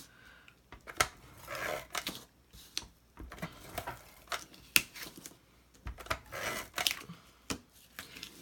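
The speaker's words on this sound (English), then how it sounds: "then I will put some tape runner on the back of this." Tape runner is pressed along the back of a Halloween cut-apart card, making sharp clicks and short sticky pulls in irregular bursts, close and fairly quiet.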